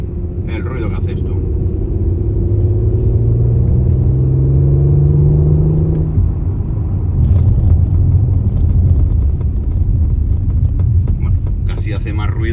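A 2020 Audi RS4 Avant in sport mode gives a deep, steady engine rumble with a rising drone while driving, mixed with broad road noise throughout.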